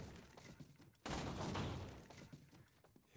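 Burst-fire gun shooting in the VR game Resident Evil 4 VR, a sudden loud burst of rapid shots that fades over about a second, with a sharp new report starting right at the end.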